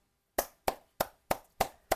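Six sharp hand claps in a steady, evenly spaced rhythm, loud and close, after a brief silence.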